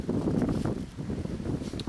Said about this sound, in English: What a ferocious wind we got coming along there